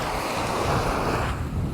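Waves washing onto the beach at Wat Khao Temple in Hua Hin, Thailand, a close, steady rush of surf mixed with wind buffeting the microphone, loud and unbroken with no voices.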